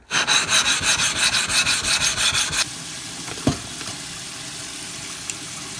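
An extra coarse sharpening stone rubbed back and forth across another sharpening stone to flatten it, a steady rhythmic scraping for about two and a half seconds, then quiet room tone with a single faint knock.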